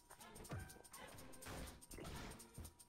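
Cerberus, a dog enemy in the game LISA: The Painful, gives a few sharp barks and yelps over a busy, steady game backdrop, with bursts spaced across a few seconds.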